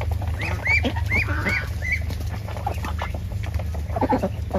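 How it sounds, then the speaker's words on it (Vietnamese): A flock of large farm ducks quacks close by in repeated short calls over a steady low hum, several birds calling in quick succession. "Vịt đẹp này cũng bự con."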